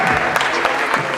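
A brief burst of dense audience applause at a university medical students' public lecture in Nigeria, greeting the session moderator; loud, close clapping throughout.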